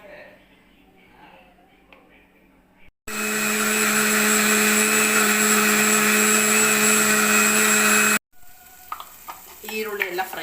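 A mixer grinder whirs loudly and steadily for about five seconds, starting and stopping abruptly, as it grinds a masala of coconut, garlic, ginger, curry leaves and a little tamarind for a tilapia fish curry. Quieter kitchen sounds come before and after.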